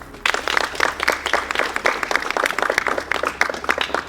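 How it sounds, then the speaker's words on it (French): An audience claps after a reaction screening, a spirited burst of many hands starting suddenly and carrying on with uneven, lively rhythm. "vous pouvez vous applaudir"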